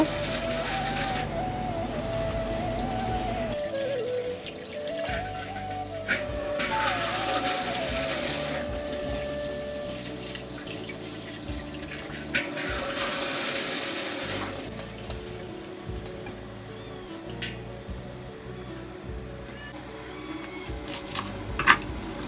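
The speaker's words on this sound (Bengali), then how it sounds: "শাক আমার শেষ আর একটু ধুয়ে নিচ্ছি ভালো করে" Water spinach greens being rinsed under a running tap in a sink, a steady wash of flowing water with splashing, while a cat meows intermittently in the background.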